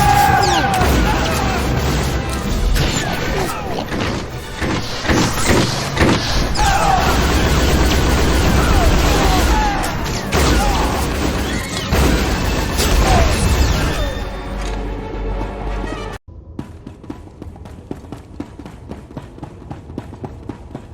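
Blaster fire erupts in a Star Wars video game battle, a dense, loud barrage with booms and crashes that runs continuously before cutting off abruptly into a quieter background near the end.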